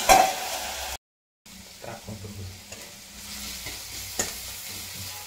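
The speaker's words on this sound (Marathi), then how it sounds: "मिरची, बटाटा वाफवलाय, आता मिरची टाकली आहे। बटाटा साईडला सरकून मिरची तेलात तळून घेऊ।" Green chillies fry in oil in a pan pushed beside steamed potatoes, a soft continuous sizzle with occasional stirring scrapes, after a brief cut to silence.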